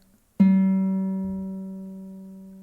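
A single guitar string, tuned too low and being raised toward G with a clip-on tuner, is plucked once and rings out clearly, slowly fading over a couple of seconds in an otherwise quiet room.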